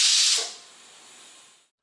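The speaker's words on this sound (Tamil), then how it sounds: "இப்போ 3 விசில் வந்துட்டு இதில் ப்ரெஷர்லாம் போயிடுச்சு." A pressure cooker releases steam in a kitchen: a loud, sharp hiss bursts for about half a second, then fades into a softer, fainter hiss that trails off and stops.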